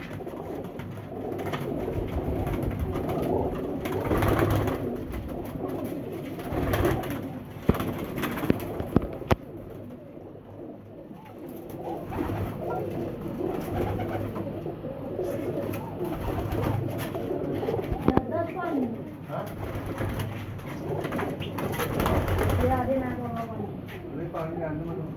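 Sialkoti pigeons coo softly and repeatedly in a loft, with low murmuring calls running beneath near, steady conversation by several people.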